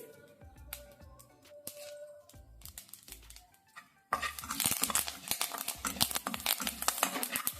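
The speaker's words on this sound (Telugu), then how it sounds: "ఈ పోపు వేసేటప్పుడు ఈ చిటపట సౌండ్ అయితే నేను మంచి ఎంజాయ్ చేస్తుంటాను" Curry leaves dropped into hot tempering oil with other seasonings for a Telugu-style okra curry, bursting into a loud, dense sizzle and spitting crackle after quieter pan clatter, close up with no talk.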